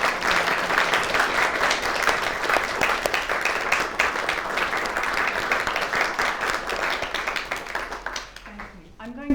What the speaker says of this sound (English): the round of applause is more than justified